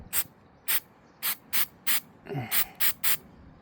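An aerosol can of MAF sensor cleaner sprays in eight short, sharp hissing bursts at a fairly even rhythm, close and loud, with a brief softer rustle midway.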